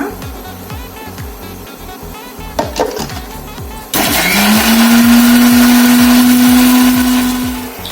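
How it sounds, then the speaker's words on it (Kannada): A kitchen mixer grinder grinding onion masala with fresh coriander leaves and a little water. After a few seconds of quieter rhythmic background, it kicks in with a loud, steady, close whirring that holds and then eases off at the end. "ಮಿಕ್ಸಿ ಜಾರ್ಗೆ ಸ್ವಲ್ಪ ಕೊತ್ತಂಬರಿ ಸೊಪ್ಪು ಹಾಕಿಕೊಂಡು ಒಂದು ಸ್ವಲ್ಪ ನೀರು ಹಾಕಿ ಚೆನ್ನಾಗಿ ಇದನ್ನ ರುಬ್ಕೊಂಡು ಬರೋಣ"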